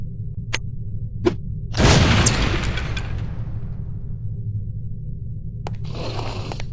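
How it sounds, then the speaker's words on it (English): Lipstick-shaped explosive going off on impact in the spy shooter No One Lives Forever: a single loud burst with a long decaying rumble, set between sharp ticks and game ambience, with no talk. "These relatively inconspicuous-looking lipsticks are actually powerful explosive devices that detonate on impact."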